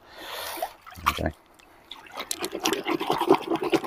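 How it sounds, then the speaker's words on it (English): Cloths swirl around in a pot of water mixed with non-bio detergent, making soft splashing and trickling sounds close up with brief pauses in between. "Just swizz around in the water."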